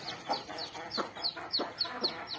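A hen clucks in a quick, regular series of short, rhythmic calls, close and clear, with no talking.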